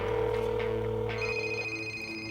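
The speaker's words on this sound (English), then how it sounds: "Let me try and call your cell phone." A cell phone rings, heard as a steady electronic ringtone with a sustained tonal buzz, joined partway through by a higher bright tone, loud and continuous with no talk.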